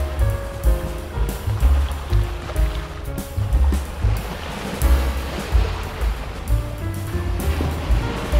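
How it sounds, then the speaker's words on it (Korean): Ocean waves wash steadily onto the shore at Cheongsapo on the Busan coast, a continuous rolling surf with repeated swells rising and falling, fairly close and loud, with no voices. "파도 소리와 함께하는 산책,"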